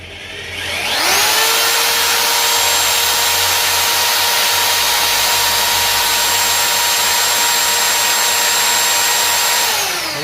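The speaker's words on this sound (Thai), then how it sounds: "เดี๋ยวผมจะกดสว่านนะครับผม" An electric drill powered from a 2000-watt inverter and MPPT solar charger setup spins up, holds a steady loud whine with a constant pitch for about nine seconds, then winds down, with no talking.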